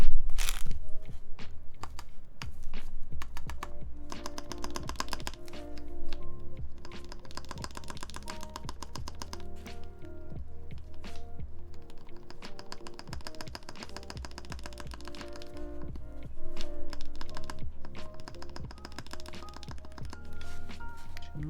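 Fast, continuous clacking of keycaps on a custom mechanical AEBoards Constellation keyboard during a build, loud and close with dense rhythmic keystrokes throughout and no speech.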